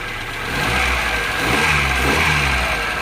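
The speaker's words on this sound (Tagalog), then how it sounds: "narinig nyo yung makina natin. Ayan, silinyador natin." A Kia Pride car engine revs under the accelerator, rising from a steady idle into repeated throttle blips with a mid-pitched mechanical hum and some rattle, loud and close with no talking.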